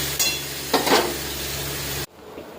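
Pressure-cooked mutton braising in a pan for a spiced curry, a close, loud sizzle with a couple of stirring scrapes, no talk, ending in a sudden drop to quiet.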